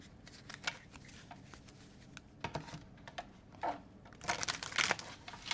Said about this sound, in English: I like to shuffle 3 times and pull 3 cards.